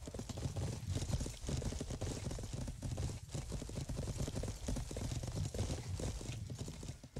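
Rapid hoofbeats clatter steadily in the video game Age of Empires 3, several horses galloping together under a dense rumble of background noise.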